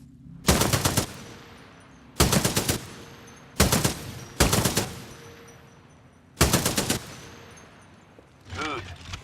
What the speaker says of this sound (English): Let's spray bullets.